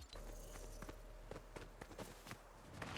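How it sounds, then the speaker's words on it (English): Footsteps of another player in the Fortnite video game, a run of soft, fairly quick steps over steady game ambience, mid-distance and not loud. "You can hear someone else's footsteps."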